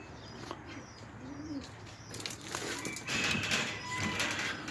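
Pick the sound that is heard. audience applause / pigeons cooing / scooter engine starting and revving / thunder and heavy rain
pigeons cooing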